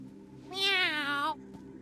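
Cat meowing in the King's Quest video game: a single close, clear meow of about a second, rising then falling, over a quiet background hum.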